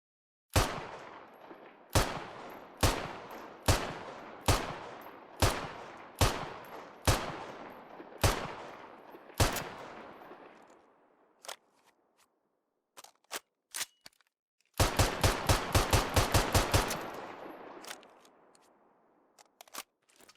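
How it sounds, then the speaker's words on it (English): A UAR-10 rifle with bipod firing in Squad, about ten sharp evenly spaced single shots with ringing tails, a few isolated shots after a lull, then a quick rapid string of cracks fading into echo. "The second kit features the UAR-10, a new rifle introduced in this patch."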